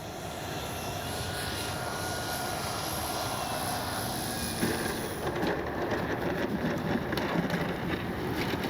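Hangar 9 J-3 Cub 10cc RC plane flying at a maiden flight, a steady engine drone heard from a distance under constant wind noise, with no talking.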